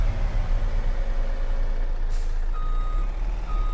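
A truck in the Forestry Survival game rumbles with a steady, low engine drone while a few high reversing beeps sound clearly above it, accompanied by a brief hiss like an air brake.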